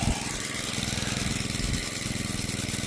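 Small gas engine powering a water pump on a farm field, running steadily close by with a low, even chugging drone throughout.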